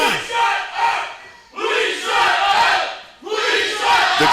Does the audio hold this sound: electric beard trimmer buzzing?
no